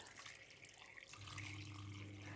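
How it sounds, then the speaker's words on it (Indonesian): One liter of water poured into a cooking pot to boil beef bones, a faint splashing stream that grows fuller and steadier partway through, with no voices. "Kemudian akan aku tambahkan lagi air sebanyak 1 liter."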